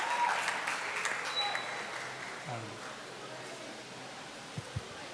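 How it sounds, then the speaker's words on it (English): Audience applause at a teenagers' conference, a dense wash of clapping that starts loud and gradually thins and fades, with a few low thumps near the end. "Please let's give them a round of applause."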